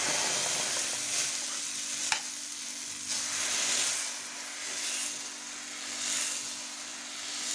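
Dosa batter sizzles on a hot tawa, a steady close hiss with gentle swells and one sharp click partway through, no voices.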